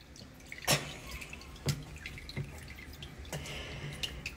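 Water drips during a child's evening bath, a few distinct plops spaced about a second apart over a faint background of splashing and running water, with no voices.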